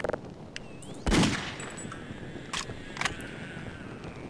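A shotgun fires in the video game Half-Life: Opposing Force, one loud close blast followed by a couple of fainter sharp game sounds over a low ambient hum, with no talking.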